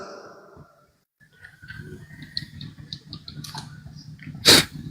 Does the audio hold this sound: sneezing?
yes